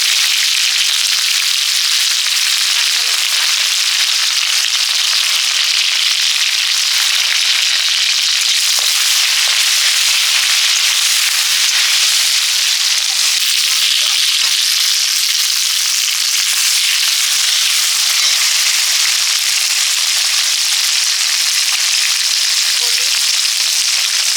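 Whole dried red chillies and cumin seeds sizzle in hot oil for a Bengali potato dum tempering, a loud, dense, continuous hiss and crackle that runs unbroken throughout, with no talk.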